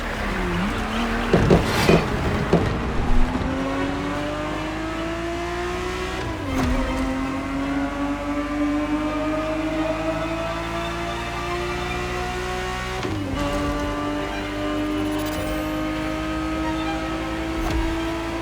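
A Ferrari 365 GTB4 racing in The Crew Motorfest: a loud engine climbing steadily through the revs, dropping briefly at gear changes, with a few tire squeals and thumps along the way.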